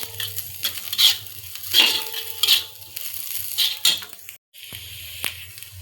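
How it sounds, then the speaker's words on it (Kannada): Ginger being sautéed in a pan for a Kannada home-cooked dish, with repeated metallic stirring scrapes and clinks over a soft sizzle in a steady, close rhythm, alone without talk. "ಶುಂಠಿ ಹಾಕ್ಕೊಂಡು ಇವಾಗ ಮತ್ತೆ ಬಾಡಿಸ್ಕೊಬೇಕು"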